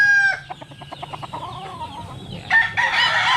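A Melsim Hatch bloodline gamecock, a three-time winner, gives a quick run of sharp, rhythmic clucks, then a pause and a loud, close crow near the end.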